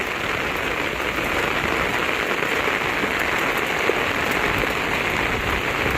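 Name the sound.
rain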